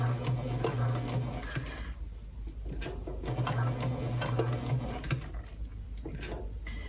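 A sewing machine runs in short bursts while stitching a fabric pouch, a steady mechanical whir with fine rapid ticking, pausing between runs against a faint background hum.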